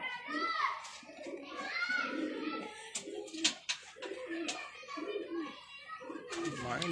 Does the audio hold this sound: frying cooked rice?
no